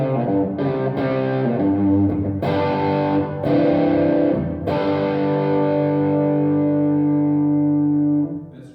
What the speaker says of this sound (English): when my guitar's turned all the way up and I play hard, I'm getting some crunch and some overdrive.